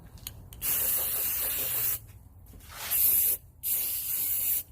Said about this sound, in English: Spray these down.